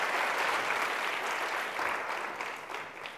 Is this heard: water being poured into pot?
no